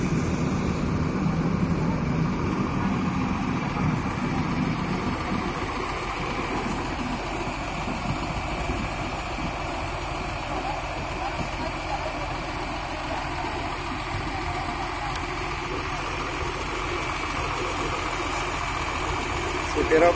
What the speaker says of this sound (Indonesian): Ini bis yang Nopin 88 ini dengan mesin Mercedes-Benz OH1521